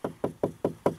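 Five evenly spaced, sharp knocks sound on hard interior trim in a 2016 Mercedes-Benz S-Class S350 4Matic W222, close and dry, with no talking.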